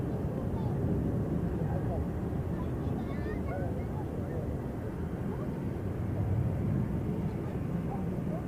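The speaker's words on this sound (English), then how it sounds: "Thai Airways has received takeoff clearance in the meantime." A Thai Airways Airbus A340 airliner takes off at Zurich Airport, a broad, steady roar of jet engines holding loud and level throughout, with wind rumble underneath.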